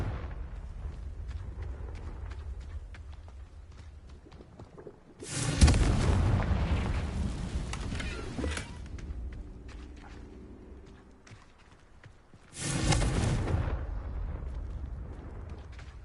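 Confringo fire spells exploding in the Hogwarts Legacy game: two loud booming blasts, each a broad roaring burst lasting a few seconds, separated by a quieter stretch of low rumbling game ambience.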